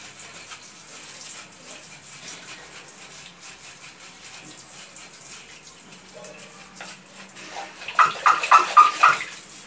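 Water sprays onto tomato seedlings in plastic containers, a soft hissing wash that runs throughout, with a few louder spurts near the end.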